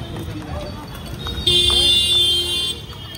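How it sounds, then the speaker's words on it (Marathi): Horses' hooves clip-clop along a busy street in Indore under steady crowd chatter and traffic noise, with a shrill high tone sounding partway through. "मित्रांनो घोडे आलेत, घोडे बघा।"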